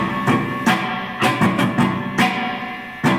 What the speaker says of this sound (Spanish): Muteado sonaría así, para que se concentren en la mano derecha.